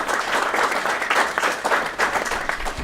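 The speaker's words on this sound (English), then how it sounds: "I'd like just to hear a round of applause for my wonderful colleague and friend here" A crowd at a Budapest award ceremony applauds warmly and loudly, with dense, continuous clapping that swells in gentle waves and fills the whole moment with no speech over it.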